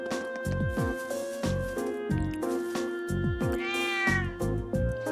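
A cat meows in the Trails of Cold Steel video game, with several clear, close meows in quick succession over steady background game music.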